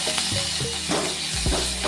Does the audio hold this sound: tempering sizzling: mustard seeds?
yes